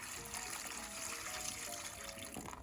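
Rusty tools and liquid tip into a strainer with a close, steady splash and trickle of pouring liquid that runs almost the whole time, then trails off at the end.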